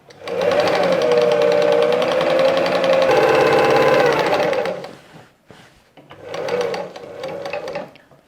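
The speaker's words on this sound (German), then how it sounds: "Wir steppen unsere rechts auf rechts gelegten Taschen einmal ab." A sewing machine stitches right-sides-together fabric pockets for a wall organizer, running in a steady loud whir for several seconds, stopping briefly, then starting again for a shorter run, close up with no talking.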